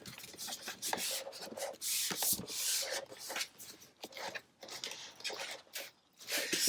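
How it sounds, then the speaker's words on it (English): Scraper rubbing stencil vinyl down onto a blue light grip cutting mat in repeated short scraping strokes, close and dry, with brief pauses between passes. "All right, so now I have this on my mat, so I'm just scraping it down"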